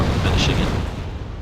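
A Buratino rocket artillery barrage in Wargame: European Escalation lands as one dense, rumbling roar of overlapping blasts. It is loud and close, and it fades gradually over a second or so.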